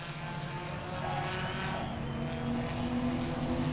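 Enduro race cars roar around Langley Speedway in a continuous distant engine drone, steady and moderately faint, with no one talking.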